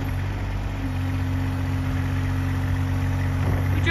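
A Kubota RTV1100 4x4 diesel utility vehicle with enclosed cab idles steadily nearby, a constant low diesel rumble and hum without change in pace.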